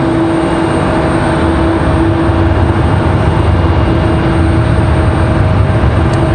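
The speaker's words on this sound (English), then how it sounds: "Is this 737-9 that makes its way back to Atlanta, I believe." Steady broadband jet roar from a Boeing 737-9 airliner on its takeoff run at Raleigh-Durham airport, loud and continuous with a couple of sustained tonal whines running through it, and no talk.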